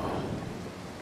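Thunderstorm with lightning and steady rain in the stealth video game Mark of the Ninja, a dense continuous wash of rainfall with a low rumbling undertone, fairly quiet and unbroken, with no voices.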